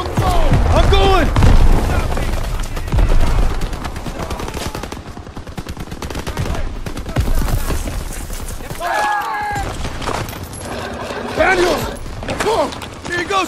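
Dense, continuous battlefield gunfire in a Call of Duty WWII campaign mission, with rapid machine-gun bursts and booming impacts. Soldiers shout over the din throughout.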